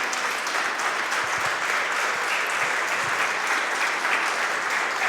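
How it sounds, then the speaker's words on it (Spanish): Church congregation applauding during a worship service, a loud, dense, even roar of clapping sustained throughout with no talk over it. "¿Podrías darle un aplauso al Señor por lo que Él hizo?"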